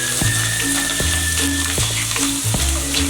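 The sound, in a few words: frying poha (flattened rice) in hot oil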